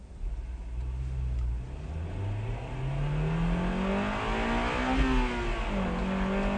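A front-wheel-drive car accelerates hard through a driving technique run, its engine revving steadily higher, holding a loud, close drone, then dipping briefly as it shifts and climbs again.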